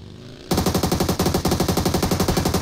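A Glacier M4 rifle fires in full-auto in a video game, one loud continuous burst of evenly spaced rapid shots that cuts in abruptly after a quiet moment and runs to the end.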